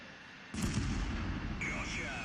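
A Centurion Mk.I tank in World of Tanks fires a single premium shell, a sudden booming blast followed by a lingering rumble, then a sharper mechanical ring and whine as the next round loads.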